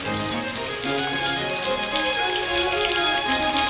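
Bacon-wrapped, breaded jalapenos fry in hot oil, a loud, steady crackling sizzle with dense popping, running continuously without speech.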